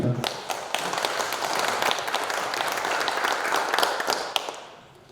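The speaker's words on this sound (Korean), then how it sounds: "위원장님께 다시 한번 격려의 박수를 부탁드립니다." A crowd at a community residents' briefing claps in steady applause, many hands close together, fading out near the end.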